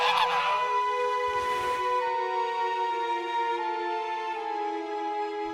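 A goose honks loudly and continuously, a long harmonic call stretching across the whole stretch with a brief noisy burst near the start, with no talk.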